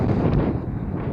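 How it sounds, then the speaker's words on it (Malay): Strong wind buffets a microphone during a cycling ride, a loud continuous low rumble that holds steady with no voices. "Ya, angin kuat lah."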